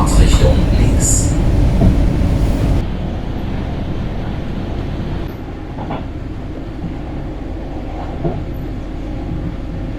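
An East German train pulls into Berlin-Ostkreuz station with loud rumbling and clatter up close, which falls away to a quieter platform hum with faint clicks afterward.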